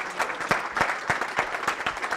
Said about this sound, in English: have a round of applause for Peter here.